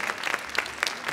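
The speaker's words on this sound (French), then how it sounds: "Oui, des applaudissements, Max Kuhner" Applause for rider Max Kuhner fills a show jumping arena at the Grand Palais, a short burst of dense crowd clapping, steady and moderately loud.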